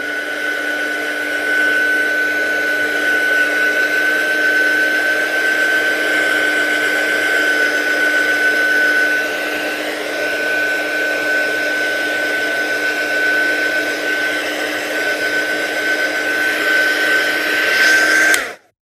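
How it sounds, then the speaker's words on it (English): A heat gun blowing hot air over freshly applied acrylic paint, a steady loud whirring roar with a constant whine that holds for about eighteen seconds before cutting off abruptly. "So let's give that a blast with a heat gun just to make sure that acrylic paint's dried."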